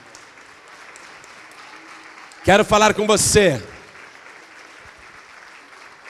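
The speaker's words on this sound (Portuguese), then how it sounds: "vamos aplaudir muito." A church congregation applauds, a steady wash of clapping running through the whole stretch, with a voice speaking briefly over it in the middle.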